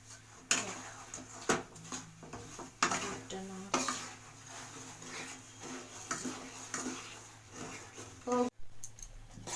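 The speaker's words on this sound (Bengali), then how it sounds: "গেল গুড়টা নাড়ছি" Jaggery boiling in a pot for a sour-spicy-sweet jujube pickle, stirred with a spatula: irregular metallic scrapes and clanks against the pot over a soft bubbling sizzle, close by, with faint voices in the background.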